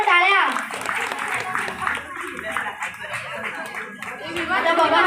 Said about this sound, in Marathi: चला चला सगळ्यांनी टाळ्या तरी वाजवा